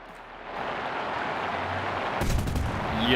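Schräge Musik cannons fire in War Thunder: a low rumbling build-up breaks into a loud, sharp burst of cannon fire near the end.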